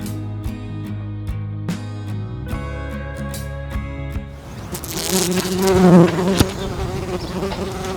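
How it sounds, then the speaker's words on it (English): Bees buzz steadily in a hedge at a caravan park, a dense humming drone that swells louder toward the middle before easing off again. "This is my favorite, and on a sunny day it's full of bees."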